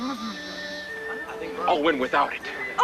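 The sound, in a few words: horse neighing at a race starting line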